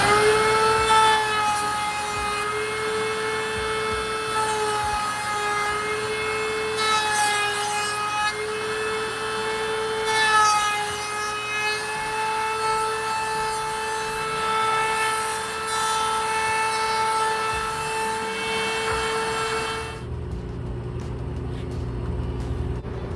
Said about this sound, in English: whenever you use the router, you want to route against the way that the bit is spinning